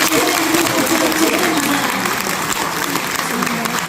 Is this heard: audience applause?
yes